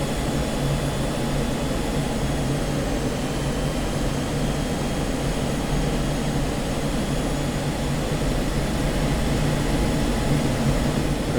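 Steady, loud roar of an F-16C Viper jet engine in the DCS flight simulator, a constant broadband rush with faint tonal whine holding evenly throughout, no voices.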